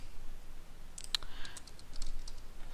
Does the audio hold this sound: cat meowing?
no